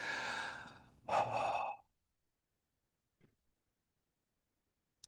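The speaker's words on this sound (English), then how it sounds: "Let's do the final exercise of energization, double breathing without any tension." Two deep, forceful breaths taken close up in a relaxed double-breathing exercise, the second a sharper, louder inhale-exhale, then near silence with a faint small sound later.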